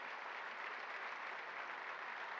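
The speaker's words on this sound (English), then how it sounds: "Alejandro, let's give him a round of applause." An award dinner audience applauds in a steady, dense patter of clapping hands that stays even and moderately distant for the whole short stretch.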